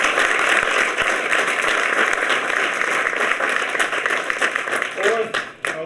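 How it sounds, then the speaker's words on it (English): Audience applause after a call to honor a man at the opening of a community clinic, a dense steady patter of many hands clapping that carries on for several seconds and thins slightly near the end. "Everybody, he deserves an incredible round of applause."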